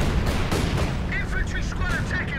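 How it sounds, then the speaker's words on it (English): A light artillery barrage lands in Company of Heroes 2, with loud dense rumbling booms and crackling impacts, under a voice talking. "Also have the light artillery barrage coming down."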